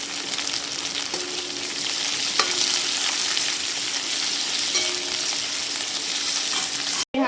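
Onion and green chili fry loudly in a pan, a dense and continuous close-up sizzle with a few faint clinks. It cuts out briefly near the end.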